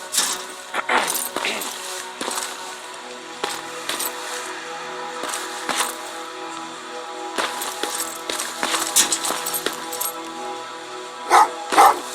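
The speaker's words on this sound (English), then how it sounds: "Oh, what's with the dogs?" Dogs bark repeatedly in the video game Terminator: Resistance, clear sharp barks in irregular bursts amid game ambience, moderately loud, with a couple of stronger barks near the end.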